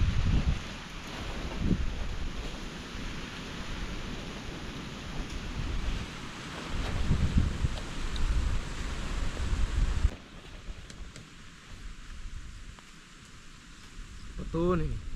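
Wind and heavy rain at a forest camp beside a small river, forming a steady broadband roar with gusty swells. The roar eases somewhat toward the end, and voices talk underneath.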